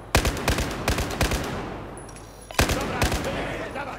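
Bursts of machine gun barrage fire in Battlefield 4: several sharp rapid volleys close up, a short lull with trailing echo, then more bursts, and a brief spoken word over the shooting.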